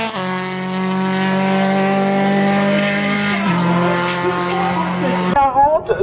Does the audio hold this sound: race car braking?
yes